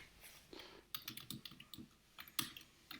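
Quiet, irregular keystrokes on a computer keyboard while code is entered, short bursts of clicks with brief pauses, close and soft, without any talk.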